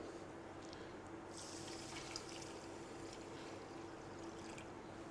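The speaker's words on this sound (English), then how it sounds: "and then you add your water" Water runs and splashes steadily into a rice cooker pot holding rice, a continuous trickling rush at low volume throughout.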